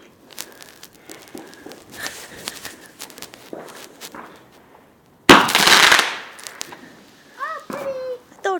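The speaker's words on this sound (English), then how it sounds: "Don't hurt me, firework." A firework goes off outdoors with one sharp, loud burst of crackling bangs, sudden after quiet moments of footsteps and voices, followed by shouting.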